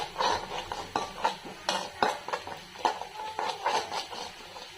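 A spoon scrapes and clinks against a pan as fried onions are stirred with turmeric, an irregular series of close metallic taps and scrapes with no voices.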